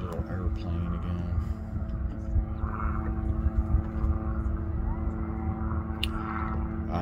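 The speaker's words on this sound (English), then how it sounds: "The little airplane again." A small propeller airplane drones overhead with a steady, continuous hum heard from a cuddy cabin boat on a Florida lake, with low background rumble throughout.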